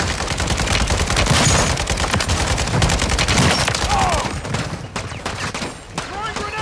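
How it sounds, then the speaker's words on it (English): Rapid gunfire rattles through a Call of Duty match as a sustained fusillade of close shots, with overlapping bursts that thin out toward the end while voices are faintly present underneath. "Taking effective fire!"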